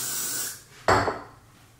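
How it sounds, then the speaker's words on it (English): A short hissing spray burst, a pause, then a second louder spray blast close by, ending with a faint click. "Spray that on there."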